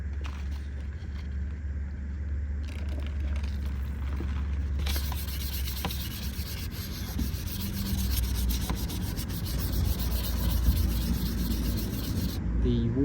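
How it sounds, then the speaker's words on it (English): Wet sanding a car body during a rust hole repair, with soapy water on the panel, a continuous near rubbing and scrubbing rasp in long strokes that grows louder and brighter midway and keeps going steadily. "the wet sanding makes it much more smoother than dry"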